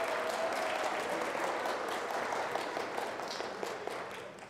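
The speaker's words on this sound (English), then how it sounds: "One more round of applause for our first group." Audience at an opioid summit giving a presenting group a round of applause, steady and fairly even clapping throughout, tapering slightly at the end with no talk over it.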